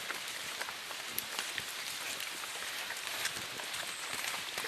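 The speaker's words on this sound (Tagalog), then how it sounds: "Inabutan kami ng napakalakas ng ulan." Heavy rain pours down at Teraja Falls in Labi, Brunei, a dense steady hiss of drops striking surfaces all around, with no talk.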